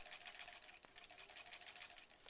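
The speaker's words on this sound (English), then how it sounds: "I call it the steampunk sewing machine." A 1938 Kenmore sewing machine with an angular body and crinkle finish runs at a steady pace, giving a light, rapid mechanical clatter of needle strokes, close and fairly quiet, with no talking.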